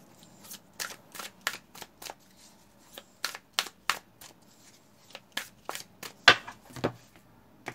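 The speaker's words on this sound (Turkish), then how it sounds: "En son olarak Rumi'den bir kart alalım" Oracle cards are shuffled and drawn from a deck, a quick series of crisp riffling flicks in uneven bursts, close and quiet, with no talk.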